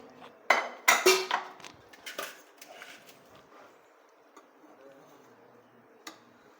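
A metal lid comes off a pot of freshly cooked veg pulao, making a few sharp clanks and clinks up close. Lighter taps and scrapes follow and fade, with one last faint tick near the end.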